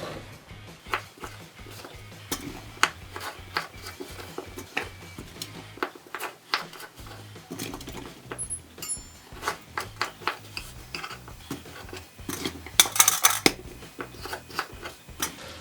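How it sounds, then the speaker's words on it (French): Pears being cut into six pieces with a knife, making close, irregular knocks and clicks against a cutting board, with occasional clinks from kitchenware and no talking. "Et mes poires je vais les couper en 6."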